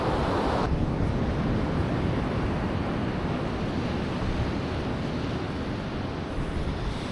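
Ocean surf washes onto the black and white sand of Playa Amatal at La Libertad, El Salvador, a steady, loud rushing of waves mixed with wind buffeting close to the microphone, with no voices.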